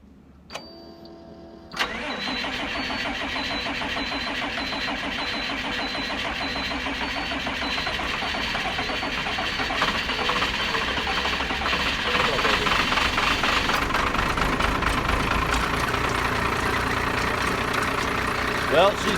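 A diesel engine, just back together after a ruptured fuel line was repaired on the road, cranks briefly and catches, then settles into a steady, loud, close idle with a faint knocking clatter that continues to the end.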